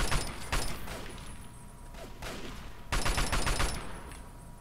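Bursts of gunfire in Fallout 3 come in two loud volleys, the first near the start and the second toward the end, with a quieter gap of game ambience between them.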